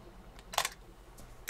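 A Canon R50 camera fires its shutter at a fast speed around 1/500th of a second: one sharp, crisp mechanical snap, close and alone, followed by fainter clicks.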